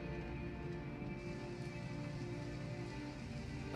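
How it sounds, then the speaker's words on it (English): Heavy pouring rain in the video game Detroit: Become Human, a dense, steady hiss of drops hitting surfaces, constant and close with no talk. "it's pouring rain"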